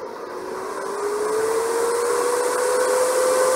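A 120mm computer case fan spins up to speed, a steady close-range whoosh with a tone that rises gradually and holds, no voices over it.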